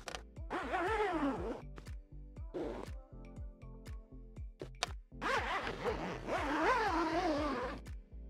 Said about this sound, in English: First of all, we need to unzip it from its cover.